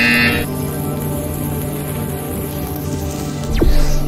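A buzzer sounds in the virtual reality game Portal Stories: VR: a steady electronic buzz with a sharper burst at the start and a quick rising sweep near the end.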